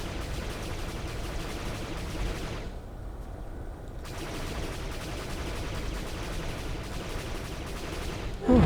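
Enemy gunfire in Disney Infinity 3.0, Age of Ultron Battle of Sokovia, comes as a dense, continuous barrage of shooting at steady loudness, with a brief dip partway through and no talk.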